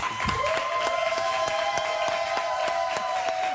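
Studio audience applauding steadily on a French debate talk show, dense clapping at an even rhythm under a sustained tonal sound, close and loud throughout.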